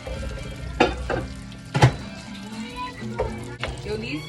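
Thick bacon sizzles and crackles in a pan, a steady close frying hiss broken by a few utensil clinks and stirring scrapes, with people talking over it.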